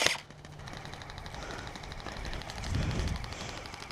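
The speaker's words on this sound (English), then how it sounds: "Okay, keep shooting." Guns fire during a D-Day-themed game at Stryker, with rapid repeated shots crackling in bursts at moderate distance under a dense outdoor background.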